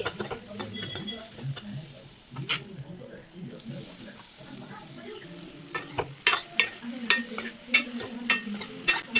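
Capsicum and paneer pieces frying on medium flame in a pan, soft sizzling under clattering stirring, with irregular scrapes and knocks growing louder and more rhythmic toward the end; a voice speaks faintly at times.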